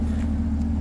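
A 2023 Chevrolet Camaro ZL1 Convertible idles, a steady low rumble with a strong even hum, close and continuous over a brief moment.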